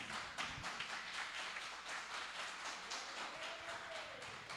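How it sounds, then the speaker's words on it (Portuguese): A church congregation applauds, a steady dense patter of clapping hands that holds for several seconds at a fairly even level, without voices over it. "Aplauda mesmo, Senhor."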